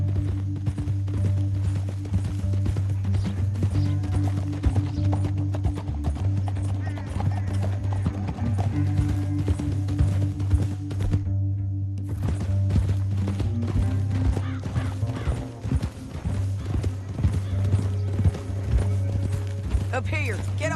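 Horses gallop in the video game Red Dead Redemption 2, steady rhythmic hoofbeats under a continuous low rumble and game score, with voices talking over them throughout.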